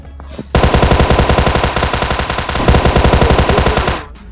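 Thompson submachine gun fired in the BGMI video game: a loud, sustained fully automatic burst of rapid, evenly spaced shots lasting about three and a half seconds, then stopping abruptly.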